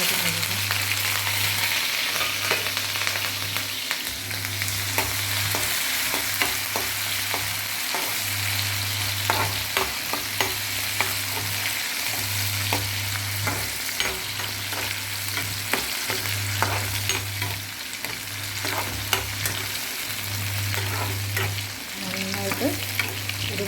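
Ginger and green chilies frying in oil with mustard seeds and fenugreek, a steady close sizzle under a rhythmic scrape of stirring repeated at regular intervals, with faint ticks and spatters throughout.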